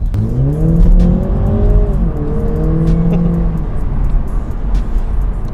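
A BMW Z4 two-litre engine accelerating hard, its rising whine climbing through gears with a brief dip between shifts, loud and close.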